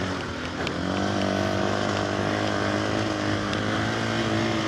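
KTM 500 EXC-F dirt bike riding into sand at El Mirage OHV, its engine a steady, loud, close drone with a sustained harmonic hum and little change in pitch.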